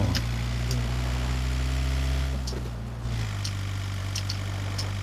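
A car engine rumbles loud and close with steady low droning tones, the pitch dropping and shifting as the vehicle moves past, with no talk over it.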